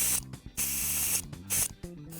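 Air hose blowing debris from the motor vents on top of a RYOBI ride-on lawn mower, several loud close hissing blasts in short bursts, with mechanical rattling and clicking in the gaps.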